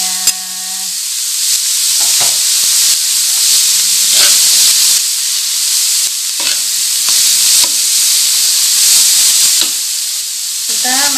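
Shredded chicken filling for potato-carrot risoles fries in a pan, a loud steady sizzle and hiss close by, broken by repeated scraping stirs of a utensil.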